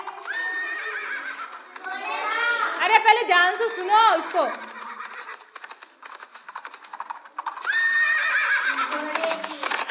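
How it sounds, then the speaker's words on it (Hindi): A horse whinnies loudly in long shrill neighs, first at the start and again near the end, with a person speaking briefly in between. "किसकी आवाज है? घोड़े की।"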